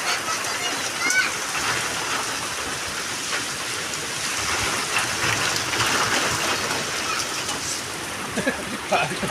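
Steady summer rain with a windstorm hisses across the whole stretch, a dense broadband wash with scattered drops and gusty swells, and a voice murmurs faintly beneath it.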